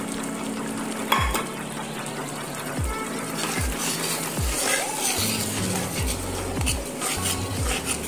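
Leftover yogurt and spiced water poured into a pan of arbi curry, a steady gushing, splashing stream running close and loud throughout, with repeated low thuds along the way.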